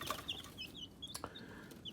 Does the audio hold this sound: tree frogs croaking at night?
no